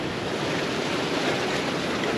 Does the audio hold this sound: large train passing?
no